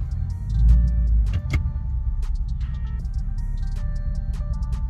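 An Infiniti Q45 idles after being shifted into gear, a steady low engine rumble close by, with a brief swell in the first second and faint clicks and ticks scattered over the hum.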